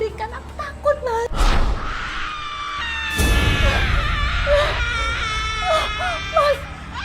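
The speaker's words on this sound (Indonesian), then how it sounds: "Aku mendengar jeritan kematian, Mas." Anguished wailing and sobbing cries rise over background noise and dark music in an Indonesian horror drama, sustained and loud across several seconds.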